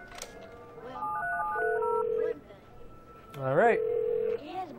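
Telephone keypad tones sound in The Darkness, a quick run of separate beeps followed by a long steady tone. It repeats after a pause, while someone speaks briefly over it.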